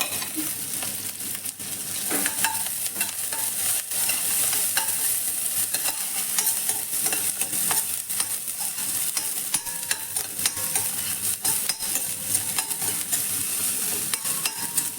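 Garlic, ginger, green chili and onion sautéing in hot oil in a pan for a ragi soup, a continuous close sizzle with scraping stirring strokes throughout, no talking.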